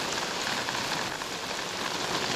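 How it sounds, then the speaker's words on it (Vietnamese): Heavy rain pours down steadily, a dense, loud, even patter of drops on surfaces that continues without a break and without voices. "Đấy đã bảo mà, mưa to rồi."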